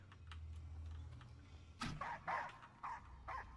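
Dog barking inside the horror game Layers of Fear 2, a few sharp barks and yips spaced over a couple of seconds after a low droning ambience, moderately close but faint overall.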